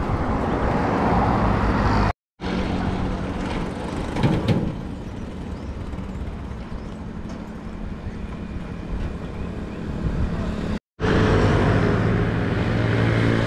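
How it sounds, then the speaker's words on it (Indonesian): An Armada Indah bus arrives on a road near the Indrapuri toll gate in Aceh, a broad, continuous roar of heavy engine and tyre noise that swells and holds, broken by two brief silent cuts. "itu nyampe lagi bus. Sepertinya Armada Indah ya"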